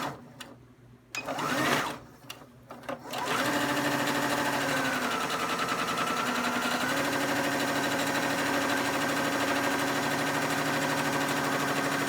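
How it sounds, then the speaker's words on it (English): A sewing machine stitches down one side of a T-shirt extender. After a few seconds of scattered handling noise it runs at a steady, close, continuous whirring hum to the end. "So I'm actually sewing down one side."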